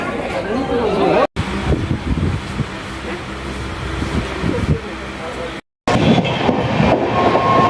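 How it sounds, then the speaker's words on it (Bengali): A train rumbles loudly along the tracks after leaving Naihati, bound for Krishnanagar, with clattering wheels and a constant roar, a voice talking over it and two brief dropouts. "নৈহাটি ছেড়ে আমাদের ট্রেন ছুটে চললো ফার্স্ট স্টপেজ কৃষ্ণনগরের উদ্দেশ্যে।"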